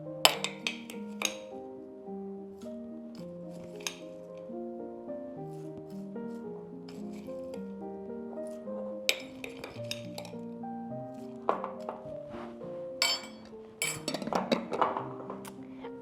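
A spoon scoops freshly made homemade granola out of a glass jar onto yogurt, giving scattered light clinks and taps against the glass, some sharper bursts near the end, over steady soft background music.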